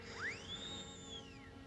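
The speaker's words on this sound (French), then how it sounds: "C'est le rameau d'une plante, je l'ai sculpté pour en faire un sifflet." A single high whistle from a whistle carved from a plant twig slides upward, holds a bright tone, then dips away, clear and close against a quiet background.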